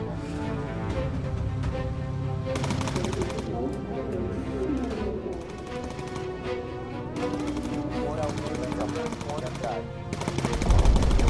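Rear-turret machine guns of a Lancaster bomber in the Bomber Crew video game rattle in long, rapid bursts over a droning engine bed. The firing is close and sustained, with short pauses between volleys.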